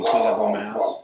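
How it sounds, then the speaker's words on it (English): A dog barks once or twice, short and close, with someone talking over it. "That's a dog."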